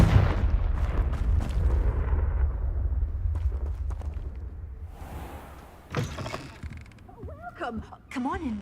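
Confringo fire spell bursting in the Hogwarts Legacy video game, a dense rumbling blast up front that fades, followed by whooshing effects and a spoken voice near the end.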